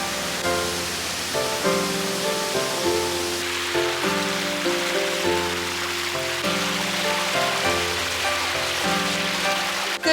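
Steady rain on a morning at Fudo Falls near Yuzawa, heard as a dense, continuous wash of water noise under a constant low rumble, with no talking.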